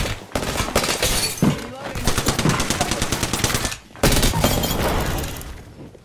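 Sustained automatic weapon fire in the video game Apex Legends, rapid loud bursts that break off briefly and then resume, with game voices mixed in.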